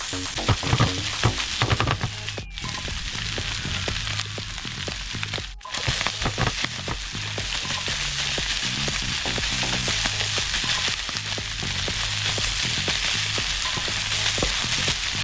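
Onions fry in a pan for homemade sisig made from leftover lechon, a dense, loud, continuous sizzle with busy crackle and occasional stirring clatter, heard close up for about fifteen seconds without speech.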